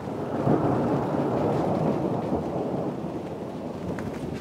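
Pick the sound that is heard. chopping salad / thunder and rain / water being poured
thunder and rain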